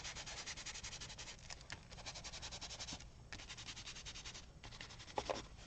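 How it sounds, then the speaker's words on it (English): Dark, near-black purple paint being rubbed away from a mixed media junk journal page, a steady close scrubbing and rasping that runs almost without pause, with a few brief gaps and small knocks. "So I'm just going to kind of rub that away because it's so dark."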